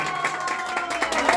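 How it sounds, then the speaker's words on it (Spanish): Applause from the crowd at a mariachi performance in Bogotá, a short burst of clapping and cheering heard fairly close, with crowd murmur and some voice mixed in. "Fuerte ese aplauso, familia,"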